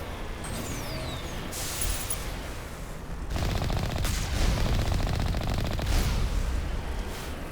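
The vehicle-mounted cannon in Mass Effect Legendary Edition fires in rapid, loud, repeated bursts of blasts and impacts over steady battle noise, with no talking.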